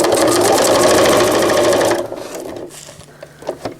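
A sewing machine stitches velcro onto a cloth diaper in a loud, fast, even run for about two seconds, then stops, leaving a few small clicks and handling noises.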